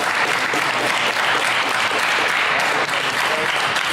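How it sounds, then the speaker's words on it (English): A live audience bursts into sustained applause for the speakers at a 518 Talks event, a dense, steady wash of clapping at close range that holds at full level throughout with no talking. "Everybody give our speakers a round of applause."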